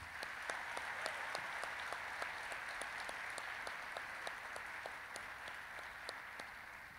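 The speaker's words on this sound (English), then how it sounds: "let's please give them a round of applause." A Veterans Day 2022 audience gives standing World War II veterans a round of applause, a steady, fairly faint patter of many hands clapping throughout, with a few sharper individual claps standing out.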